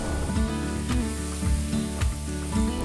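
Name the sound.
black pudding and mushrooms frying in butter in a pan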